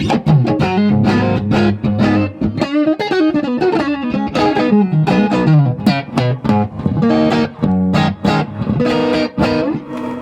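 Electric guitar played straight into a Precious Tones Sapphire amp with no pedals, continuously with a rich, ringing tone and a reverb tail, chords and notes blending at a steady, loud level.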